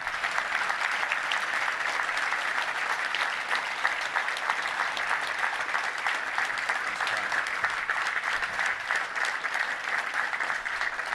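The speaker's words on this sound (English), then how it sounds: "You're getting a standing ovation." A Little Rock Touchdown Club audience gives a standing ovation, a long, sustained roar of many hands clapping at a constant, full level with no letup.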